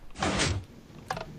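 A door opens in Minecraft with a single swishing slide, followed shortly by a shorter mechanical clack, both fairly close and with no talk.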